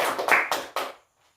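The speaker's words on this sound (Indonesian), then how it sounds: "Kita tepuk tangan." Group applause from participants at a social-welfare training session, three quick bursts of clapping that fade out to near silence.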